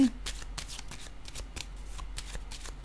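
Tarot cards shuffled and drawn by hand, a run of quick crisp riffling flicks and soft slaps, close and fairly quiet with a faint low background hum and no talking.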